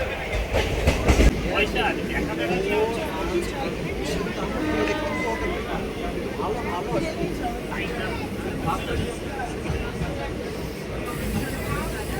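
An Indian Railways superfast express, the 12363 Haldibari Express on the Kolkata to Tarapith run, rumbles along steadily with rhythmic wheel clatter and carriage rattle throughout, a sharper bump near the start, and faint passenger chatter mixed in.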